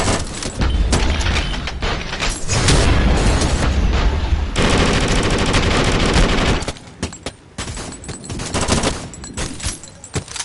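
Loud sustained gunfire in the VR shooter Sairento, with dense automatic volleys and heavy booming shots that run for several seconds. The firing then thins into scattered single cracks and mechanical clicks.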